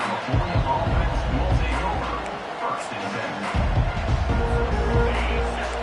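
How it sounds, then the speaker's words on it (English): A stadium crowd at a football game roars steadily throughout, a dense wash of cheering and noise with a commentator's voice talking over it. "Listen to this crowd just shaking the girders of this place trying to help their defense"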